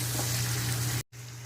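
Tomatoes with salt frying in a pan for matar paneer give a steady, close hiss of sizzling that runs continuously, breaks off briefly near the end, then resumes.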